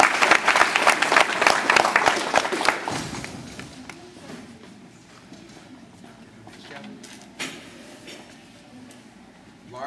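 Audience applause at a high school fall sports awards night, loud and dense clapping for the first few seconds, then fading to sparse scattered claps with faint murmuring in the room.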